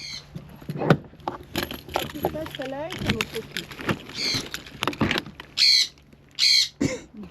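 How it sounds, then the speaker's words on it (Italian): An eagle gives two loud, high-pitched screeching calls near the end, with chattering, clattering and a voice in the background before them. "Ecco, sentite l'aquila."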